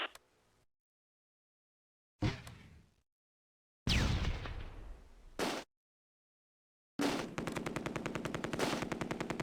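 A heavy machine gun fires in the Close Combat: A Bridge Too Far war game during a Nijmegen river crossing. Short bursts are separated by silence, ending in a long, rapid, sustained stream of shots.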